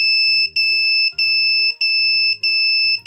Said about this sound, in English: the beep sound is coming from the buzzer